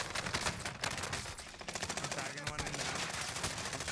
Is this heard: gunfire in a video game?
yes